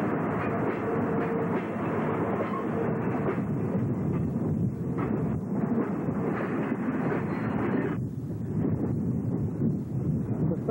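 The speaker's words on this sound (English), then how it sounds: "Southbound freight number 6 departs with engine 200, another" A southbound freight train pulls out behind a GP38-2 diesel locomotive built in 1981, hauling pulpwood cars bound for a paper mill. It gives a steady, loud rolling rumble with wheel clatter that runs continuously and fades slightly near the end.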